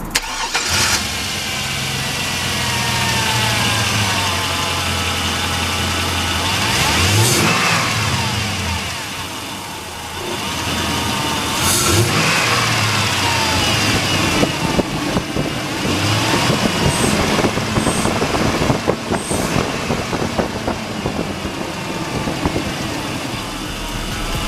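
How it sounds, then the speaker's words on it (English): A 2001 Chevy Silverado 5.3L V8 fitted with a K&N cold air intake cranks, starts and settles into a smooth idle, then is revved several times in rising and falling bursts close to the microphone, with intake whistle audible. "I'm gonna turn the truck on and give it a little gas and show y'all how it sounds"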